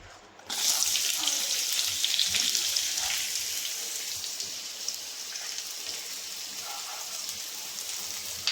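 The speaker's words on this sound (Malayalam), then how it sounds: "അപ്പോൾ ഇതിലേക്ക് ഞാൻ ഈ സബോള ആദ്യം ഇട്ട് കൊടുക്കുവാണേ" Onions dropped into hot oil in a pan for a soy roast, bursting into a loud, sudden sizzle after a brief quiet start, then a dense, steady frying hiss that eases only slightly over time.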